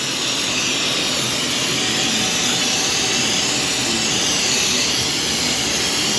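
Aerosol brake cleaner sprayed onto the engine bay of a 2003 Ford Mustang GT 4.6 to strip RTV silicone off the power steering gear: a steady, loud, close hiss that runs unbroken throughout.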